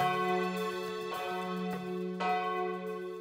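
A motorized church bell in Oriental Mindoro, Philippines, rings with a sustained, resonant tone, struck several times so the overlapping rings swell and linger.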